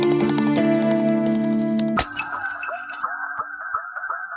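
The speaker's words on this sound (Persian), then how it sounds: "صدای شکستن شیشه است" A glass-shattering sound effect cuts abruptly into music: a sudden loud crash followed by a bright tinkling scatter of shards and clinks trailing off over a couple of seconds, with no talking.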